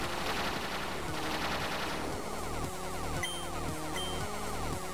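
Video game gunfire, rapid machine-gun bursts with rhythmic mechanical clatter, loud and steady over game sound without talking.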